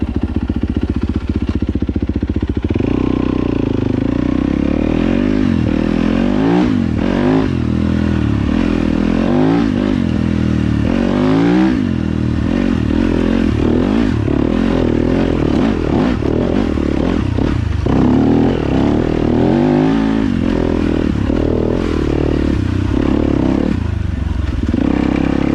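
A Yamaha YZ250FX dirt bike rides a single track trail in Michigan, its engine loud and close as it revs and drops through gear changes, with clattering, scraping and rushing wind throughout.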